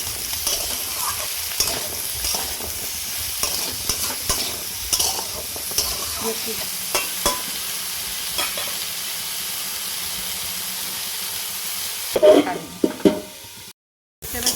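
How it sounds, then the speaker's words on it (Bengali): Salted mixed vegetables sizzle in a hot frying pan as a spoon scrapes and stirs them, with a steady frying hiss, several short scraping strokes, and a metallic clank of the pan near the end. "এটা আমি একটু নুন দেবো। ভালোভাবে একটু নাড়াচাড়া করে নিই।"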